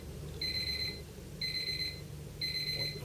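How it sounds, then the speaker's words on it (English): Alarm clock beeps across the room in three evenly spaced, high electronic pulses, each about half a second long, fairly faint over low room noise. "I think it's my alarm clock over there."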